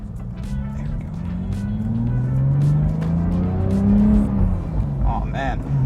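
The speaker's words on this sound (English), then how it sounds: "you get a lot more induction noise with the windows up" Porsche 911 GT3 with a six-speed manual, its engine and induction noise droning steadily from behind the cabin with windows up as the car drives, rising and falling with the revs while people talk over it.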